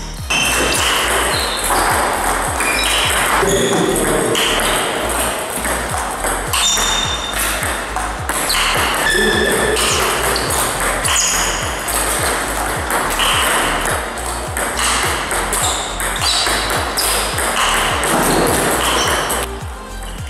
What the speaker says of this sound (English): On carbon blade the sound is audible on a whole hall.